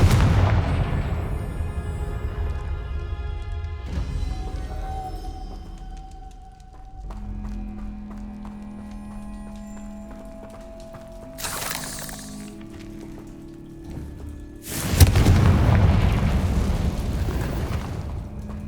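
Confringo spell blasts in the Hogwarts Legacy video game burst out as loud booms, one opening the stretch and two more near the end, with ringing tones and game music filling the spaces between.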